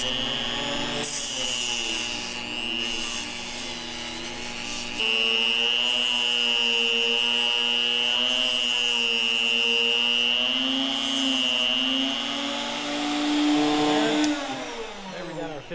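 A Blue Demon tungsten grinder whines steadily while grinding a 15 degree bevel on a tungsten electrode, a sustained high motor tone with slight pitch wavering, starting abruptly and spinning down near the end.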